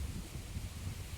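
Wind buffets a microphone with low rumbling gusts on the boardwalk at Myakka Lake, faint, with a soft rustling hiss over it.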